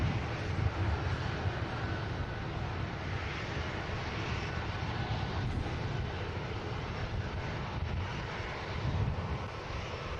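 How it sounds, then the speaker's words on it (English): A Boeing 787 Dreamliner on a repositioning flight arrives from Cardiff at Manchester Airport, a steady broadband engine roar with low rumble holding at constant loudness throughout, with some wind buffeting and no talk. "Another repositioning flight for a Dreamliner, this time coming in from Cardiff."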